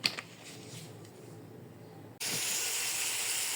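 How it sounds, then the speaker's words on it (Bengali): Cooking oil in a wok heated for frying fish erupts into a sudden loud, steady sizzling hiss that holds until the end, close and bright. "মাছটা ভেজে নেব, তাই কড়াইয়ে তেল দিয়ে দিলাম।"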